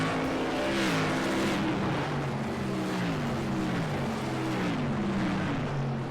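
Modified race cars roar around Thompson Speedway in close formation, their engines droning loudly and steadily with overlapping pitch sweeps as several cars pass together.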